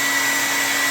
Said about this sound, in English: she's going to use this blow dryer and dry it up a little bit so we can paint it